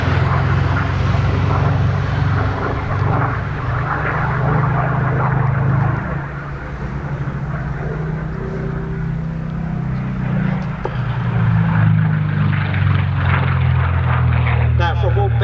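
A Griffon-engined Supermarine Seafire F.Mk.XVII, powered by a Griffon 6 of 1,850 horsepower, drones overhead at an air display at Old Warden, a loud continuous propeller engine roar rising and falling under a commentator's talk.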